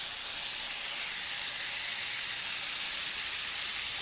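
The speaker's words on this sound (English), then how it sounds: "take your swordfish, and put it on the hot grill. Oh, listen to that sizzle." Swordfish sizzles on a hot George Foreman grill, a constant bright hiss and crackle of fish searing on the plates, steady and unbroken at moderate level with no voices.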